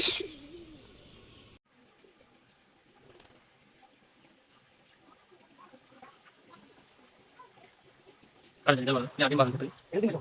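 Quail birds give soft, faint calls and chirps in a quiet space, and a person starts talking near the end.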